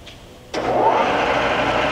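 A Lagun vertical/universal milling machine's spindle kicks on after a faint click, rising at once into a steady mid-pitched whirring hum that holds evenly, close by, with no talking.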